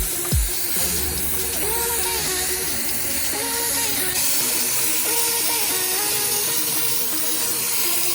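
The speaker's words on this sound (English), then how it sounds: "I'm just going to hit it all with some steam now" A steam cleaner hisses steadily inside a mouldy Audi car interior, a loud continuous spray of steam near the microphone, with a faint repeating tonal whine underneath.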